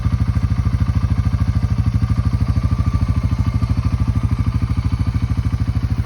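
Steady rapid idle of a 1999 Honda Fourtrax TRX300 4x4 ATV engine, a close, loud, even putter with clattering pulses and no talking.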